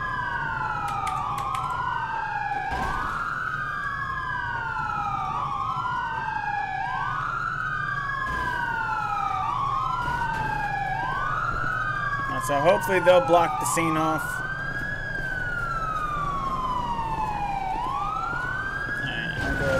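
A wailing ambulance siren in GTA V rises and falls in repeated sweeping cycles, steady and fairly loud throughout, with someone talking over it and a brief burst of other noise midway.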